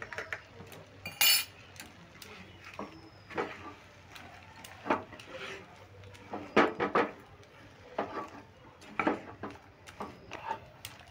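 Semolina batter for komolabhog is stirred in a pan (kadai) with a spoon, giving repeated scraping clinks and soft knocks of utensil against metal at an uneven pace, close and fairly quiet, with no speech.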